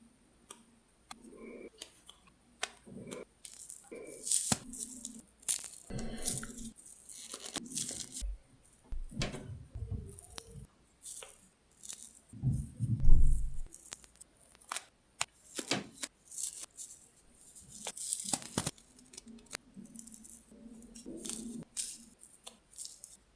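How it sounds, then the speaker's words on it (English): Sharp dry cracks and crunches as stiff, paint-hardened acrylic paintbrush bristles are cracked apart, in irregular bursts, up close, with brief quiet gaps between them. "crack all of these brushes to break their cast"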